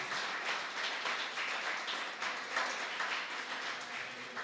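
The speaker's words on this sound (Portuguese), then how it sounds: "Aplauda mais, igreja, aplauda mais." A church congregation applauds throughout, a dense and steady wash of many hands clapping at moderate level with no pauses.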